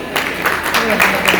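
An audience at Nalbari Medical College's foundation day cultural event gives a short burst of hand clapping, close and fairly loud, with a few sharper individual claps standing out.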